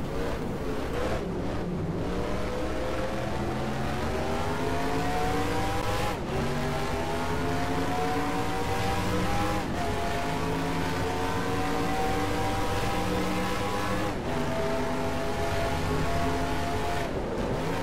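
Race car engines in a racing video game roar continuously and loudly, with rising pitch sweeps as cars accelerate and shift through gears, several engines layered together with no talk over them.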